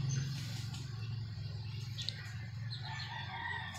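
A young rooster stag crows faintly amid low farmyard background noise, a short, thin call rising over a steady hum, with no voices clearly present.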